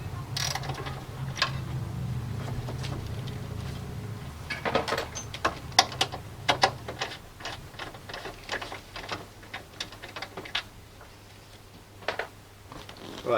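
A ratchet on an extension bar works the top mount bolts of a Nissan 350Z, giving rapid, close clicking bursts in irregular runs with short pauses, mixed with light metallic handling noises.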